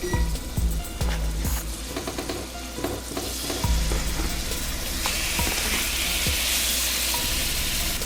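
Chicken browns in a hot oiled pan, a continuous loud sizzle and crackle with scattered clicks and knocks of utensils or the pan being shifted, close up with no talking.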